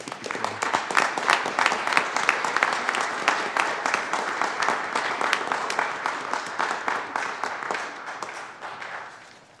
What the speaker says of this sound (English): Can we give Councilmember Ohrn one more applause?